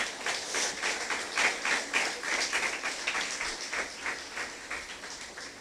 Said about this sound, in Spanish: ¿Le quiere dar palmas al Señor?